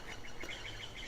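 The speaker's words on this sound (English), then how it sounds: "I'm kind of disturbing the birds back here with their bird bath" Faint, light chirps from small birds at a garden bird bath repeat in a loose rhythm over a soft outdoor hush, brief and distant-sounding.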